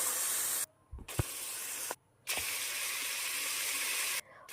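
Tomatoes frying with onions in a pan, a steady close sizzling hiss broken by a few short gaps with soft clicks, with no talk.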